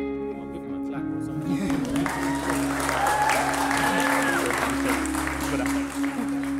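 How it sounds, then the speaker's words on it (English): Wedding guests clap for a newly married couple at the Casa Hotel in Chesterfield, steady applause filling the room over a low hum of music or crowd. "I'll give them a clap or"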